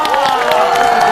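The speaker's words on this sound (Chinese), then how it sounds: "再次掌声送给郭碧婷" A studio audience at a stand-up comedy show cheers and claps for Guo Biting, a loud close crowd roar with whoops and clapping bursts mixed with a voice.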